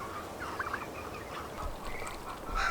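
Geese honking and gabbling in a backyard flock, a run of nasal calls close by over steady outdoor background noise, with no talking.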